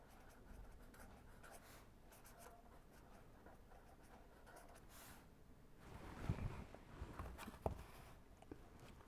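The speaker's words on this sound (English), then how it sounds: "let me write that down" Pen or chalk writing during an engineering lecture on energy storage, a faint steady scratching with a few louder taps and strokes near the end, and no speech over it.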